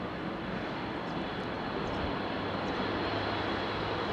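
A steady roar of jet engines comes from an airliner on final approach in strong gusty wind at London Heathrow, broad and sustained at a moderate distance, with wind noise mixed in.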